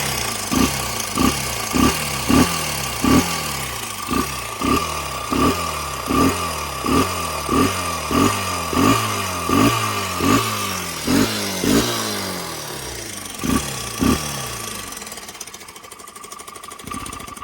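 Gas engine running close and loud, with a steady rapid chugging beat and prominent clattering valve noise ticking over each cycle, the rhythm thinning out toward the end.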